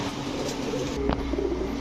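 Lal Gorra pigeons give a soft cooing call over a steady background hum, with one short coo rising partway through.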